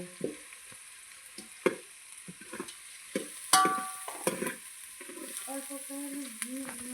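Hot oil sizzles steadily as asafoetida (hing) goes into the pan, a constant close frying hiss with occasional spoon clinks and stirring knocks against the vessel.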